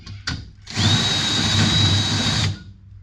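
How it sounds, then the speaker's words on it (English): A step drill bit widens holes in metal during restoration work on an old Australian Ford Falcon ute. The drill gives a short tap, then a steady high-pitched whine that grinds on for about two seconds before spinning down. It is close, and no one speaks. "just going to run a little step saw into this, see if I can't widen them out just enough."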